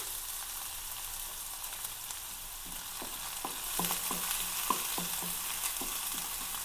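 Finely chopped onion, green chilli, ginger and garlic sizzle steadily in a hot pan, a continuous close fry with repeated scraping and stirring clicks, no talking.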